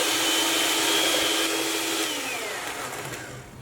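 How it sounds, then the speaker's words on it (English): An electric mixer beats eggs, sugar and vanilla essence at high speed for a chocolate mud cake batter, giving a steady, loud, close motor whine that holds for the whole stretch and eases off slightly toward the end. "we'll just go ahead and beat this on a high speed"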